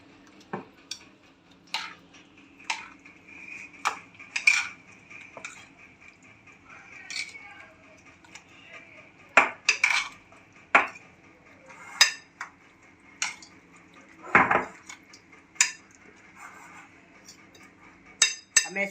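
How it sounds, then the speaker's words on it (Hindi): A spoon clinks repeatedly against a bowl while vegetable raita is stirred, giving sharp, irregular taps close to the mic over a faint background hum. "अब हम इसको करेंगे मिक्स।"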